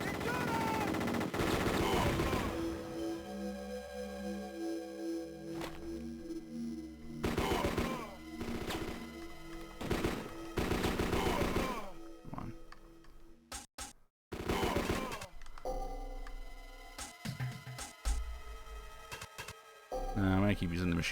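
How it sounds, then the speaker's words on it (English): Machine gun fire in the Game Boy Advance game kill.switch, repeated rapid bursts mixed with game music and effects, broken by short pauses, with a voice talking over parts of it. "I'm gonna keep using the machine gun because it's the most powerful thing I have on me right now."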